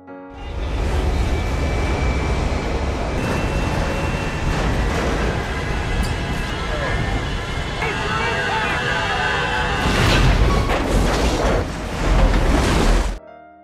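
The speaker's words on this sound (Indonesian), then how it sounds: "pesawat juga akhirnya jatuh ke Lautan Pasifik" A loud, dense roar of rushing noise and crashing debris from a plane crashing into the Pacific Ocean runs continuously, swelling into heavier bursts near the end before cutting off abruptly.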